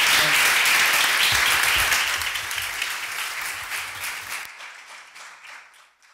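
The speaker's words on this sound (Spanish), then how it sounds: "Un aplauso para Seb Chan" Audience applause for Seb Chan at a talk on museums and participatory culture, a dense burst of clapping that starts loud and steadily thins out, dropping sharply and fading to a few scattered claps by the end.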